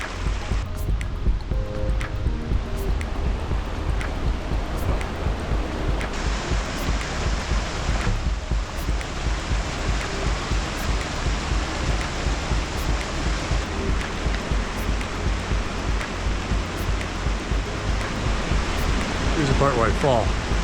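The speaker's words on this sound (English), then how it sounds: "It's a waterfall better than the one I hiked around a lake to find." A waterfall near Hermit Lake in Colorado pours in a steady, broadband roar, close and loud, filling the scene continuously without a break.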